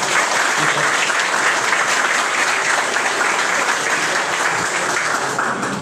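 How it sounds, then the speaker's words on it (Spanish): Loud, dense applause at a swearing-in ceremony for a water and sewer utility's director and board, continuous clapping from a sizable audience holding steady throughout. "Aplauso."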